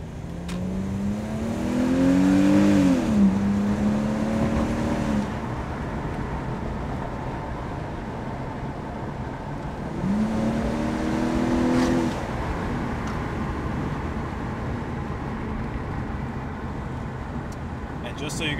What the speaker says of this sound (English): we're just going to hear how the intake sounds while driving around a little bit